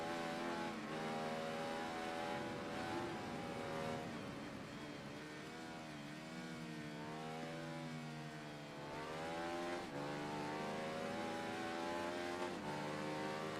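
A Ducati motorcycle engine revs steadily through the whole stretch in the racing game Ride 3, its pitch climbing and dipping with gear changes and throttle, loud and continuous with no talk.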